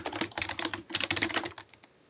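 Fingers tap rapidly on a computer keyboard, a close, dense run of light plastic clicks that thins out and stops after about two seconds.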